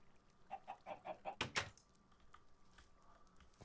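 Chickens in a video game give a quick run of short rhythmic clucks, followed by two sharper bursts and then faint ambient sounds, quiet overall.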